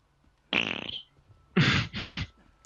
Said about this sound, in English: That was a flaccid fart.